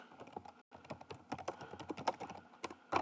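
Rapid, uneven keystrokes clatter on a computer keyboard, close and fairly quiet, with one short pause near the start and a louder cluster of clicks at the end.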